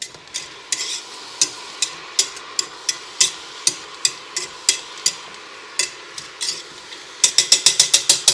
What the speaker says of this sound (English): And I'm going to stir it around as well.